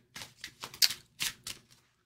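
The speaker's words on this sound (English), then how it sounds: "I'm just going to shuffle the cards" Tarot cards being shuffled by hand, a series of short crisp riffling bursts in an uneven rhythm, close and fairly loud, with no talking.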